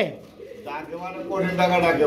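A Kuka pigeon coos in a low, rolling warble at close range, heard under a voice talking over it.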